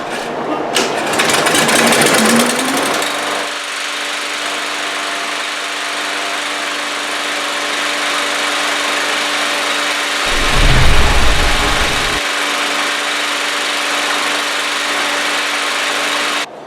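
A lawn mower engine cranks with a rising pull-start rush, catches, and settles into a steady running drone, with a brief low rumble surge near the end.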